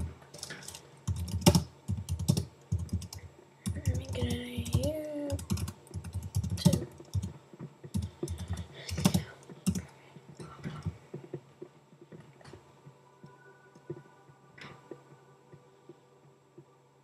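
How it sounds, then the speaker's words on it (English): Rapid, uneven clatter of keys on a computer keyboard, typed in quick bursts with short pauses and a low background hum, close and clear for most of the stretch before tapering off. "I'm gonna type in."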